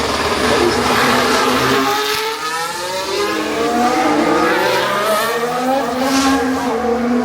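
George Russell's Formula 1 car lapping the Singapore Grand Prix street circuit: a loud, continuous high-pitched engine scream sweeping up and down through gear changes as it passes near, with a brief dip midway.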